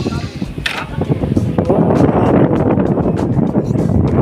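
Wind blowing steadily and loudly across the microphone outdoors among trees and fields, a broad rushing roar that swells after the first second and stays constant.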